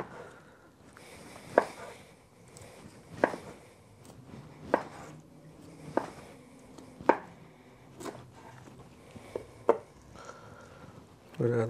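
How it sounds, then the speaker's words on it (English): A knife slices lemon pepper fried turkey breast on a cutting board, producing a series of about eight separate, close, crisp cuts spaced roughly a second apart, each ending in a light knock on the board. "we're not gonna chop up the turkey breast. We're gonna just cut it in slices"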